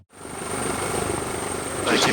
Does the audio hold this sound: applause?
no